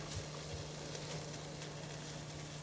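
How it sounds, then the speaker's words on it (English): Jasmine rice browns in a hot pan before water goes in, giving a steady soft sizzle and crackle of frying grains, close and even, with a faint low hum beneath. "I usually brown my rice a little bit before I put the water in, kind of almost like frying it first."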